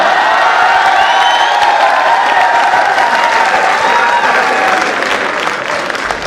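A crowd at a live Hindi stand-up comedy show breaks into loud, sustained applause mixed with cheers and whoops, the clapping holding strong before tapering slightly at the end.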